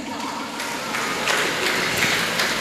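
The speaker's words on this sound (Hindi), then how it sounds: "इनके लिए जोरदार तालियां" An audience at a devotional Bhagavat katha gathering claps loudly and continuously for the host, a dense, even patter of many hands lasting the whole moment.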